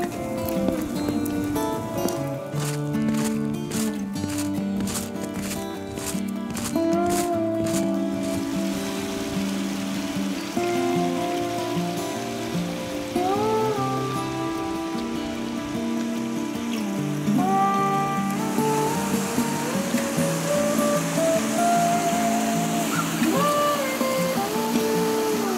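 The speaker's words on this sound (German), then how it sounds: "Das Geräusch im Hintergrund, das ist ein Bach" A stream flows in the Black Forest hills, a steady close rushing and splashing of water that continues the whole time beneath tonal sounds that rise and glide over it.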